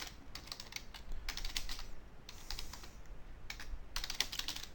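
A number being typed on a computer keyboard during a batch script demonstration, heard as close, crisp key clicks in short bursts separated by pauses.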